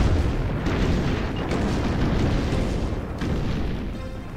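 A heavy explosion in the strategy video game State of War booms and rumbles loudly, with a sustained roar that slowly fades, and no talk over it.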